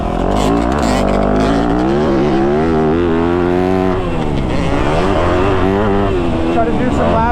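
A KTM 250 two-stroke motocross bike runs laps on a track, its engine wailing loud and close with rising and falling revs through gear changes, a second rider's bike just ahead, and a voice talking over it.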